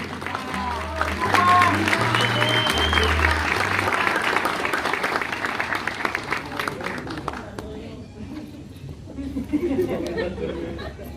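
Audience applause and chatter at a school graduation and awards ceremony at Colegio Nacional Constitución, a sustained clapping crowd that fades toward the end, with background music tones and voices mixed in.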